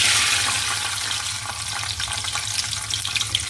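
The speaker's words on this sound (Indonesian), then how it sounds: "ini tekokaknya mau kita goreng ya" Steady crackling sizzle of tekokak snails frying in hot oil in a covered pan, close and continuous, with a low hum underneath and no voices.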